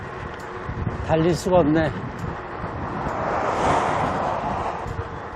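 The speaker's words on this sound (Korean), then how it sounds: "날씨 좋죠. 바람만 안 불면 좋겠는데, 바람 부니까" Strong gusting wind buffets the microphone while cycling on a windy coastal ride from Gwangyang toward Yeosu, a broad roaring rush swelling in the second half, with someone speaking briefly over it early on.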